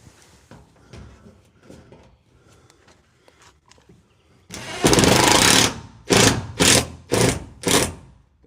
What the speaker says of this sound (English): Grab the screw gun.